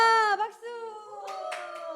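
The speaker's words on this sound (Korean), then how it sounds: "와, 박수." Children clap at a Sunday school class. A sustained, tonal voice comes first, then a few scattered, fairly faint claps follow in the second half.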